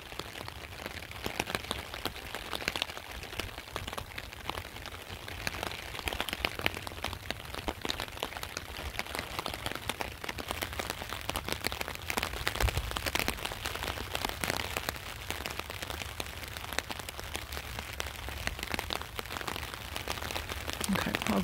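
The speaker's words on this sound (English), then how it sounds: "like I said, it's raining." Steady rain patters and hisses on a hard surface throughout, a dense even wash of droplets with an occasional sharper tap, in Gulf Breeze.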